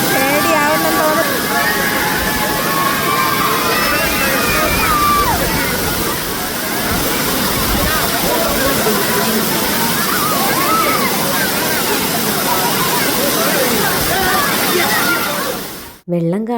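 The Thripparappu waterfall near Kanyakumari roars as a loud, constant rush of falling and splashing water. Voices of people talking nearby carry over it, and it fills the scene from start to finish.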